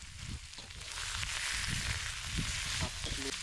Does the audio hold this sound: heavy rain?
no